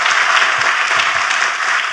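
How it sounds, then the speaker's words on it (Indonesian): A church congregation at an Indonesian sermon claps warmly in praise, producing a dense, steady roar of applause that holds at full strength for the entire stretch with no voices rising above it. "Tepuk tangannya boleh yang paling meriah buat Tuhan kita."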